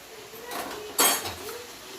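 Fried cauliflower tipped into a pot of half-boiled potatoes, heard as a couple of metallic clanks and a sharp utensil knock against the pot, close and brief over a quiet kitchen background.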